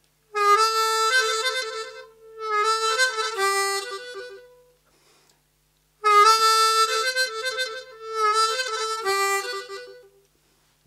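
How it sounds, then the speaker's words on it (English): Blues harmonica playing 4-5 draw shakes twice, the second much shorter, then a 4-5 blow shake, with reedy warbling between two holes in sustained phrases separated by a pause, close and clear with no speech. "4-5 draw shake twice, second time much shorter, before leading into the 4-5 blow shake. Sounds like this."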